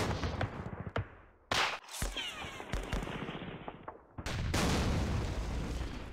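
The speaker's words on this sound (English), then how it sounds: "We hit my tank with the anti-tank rifle there. Got some return fire there." Anti-tank rifle shots and return fire in the John Tiller Campaign Series wargame, Operation Shoestring: a few sharp, separate bangs and booms with short gaps, the last blast followed by a sustained rumbling tail.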